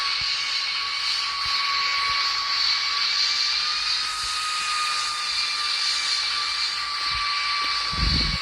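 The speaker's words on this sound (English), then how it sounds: "Now we are currently taxiing." An airplane engine in a Roblox video game hums steadily while taxiing, a constant loud whine with a low rumble that stays even throughout.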